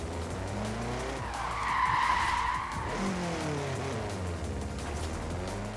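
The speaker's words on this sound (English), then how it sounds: "keep driving up and down here, drifting whenever possible" A car drifting in Forza Horizon 4, its tires skidding and squealing in a long continuous slide over a steady engine drone, loud and close, with no talking.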